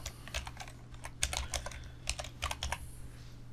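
Computer keyboard typing while writing CSS code, a quick, uneven run of light clicking keystrokes in small bursts, close and quiet over a low steady hum.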